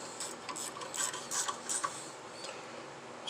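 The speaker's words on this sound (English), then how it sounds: "now I'm going to use my 12mm ratchet wrench" Rapid, faint ratcheting clicks in short raspy bursts from a 12mm ratchet wrench snugging the bottom bolt on the rear brake of a Yamaha Wolverine X2, with no talking.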